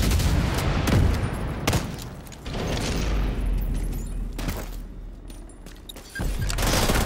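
Gunfire during an online match of The Division 2 on Xbox Series S, dense loud volleys and booms rolling over one another with brief lulls and a low rumbling bed underneath.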